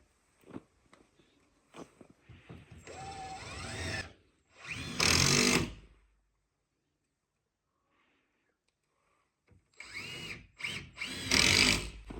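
A power drill drives screws into sheathing on a cabin wall addition in Alaska, with several short whirring bursts separated by quiet gaps and light handling noise between them.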